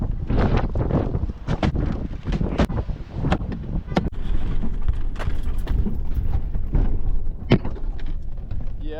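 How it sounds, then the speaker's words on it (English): Wind gusts buffeting the microphone in a steady, loud rumble, with intermittent clicks and knocks throughout. "It's windy"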